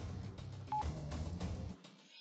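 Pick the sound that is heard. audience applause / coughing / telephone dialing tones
telephone dialing tones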